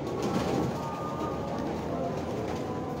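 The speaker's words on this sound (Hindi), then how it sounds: "ये टैडी कबूतर है हमारे, ये मानी भाई के पुराने कबूतर हैं।" Old teddy pigeons on a rooftop coo in a steady, continuous murmur throughout, with a soft background hum.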